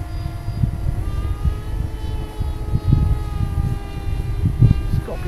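Electric motor of a Mini Drak model aircraft in flight, a steady tonal whine with harmonic lines over low, gusty rumble, holding fairly constant with a few swells in loudness.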